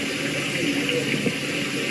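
Steady running water, a continuous close splashing rush that stays even throughout.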